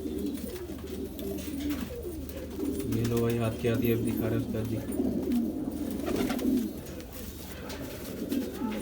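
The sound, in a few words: pigeons cooing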